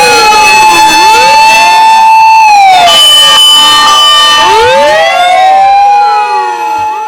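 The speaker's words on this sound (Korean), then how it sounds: "소방차의 사이렌 소리가 들렸습니다." A fire truck siren wails loudly and close, with several rising and falling sweeps overlapping, then fades slightly as it moves away at the end.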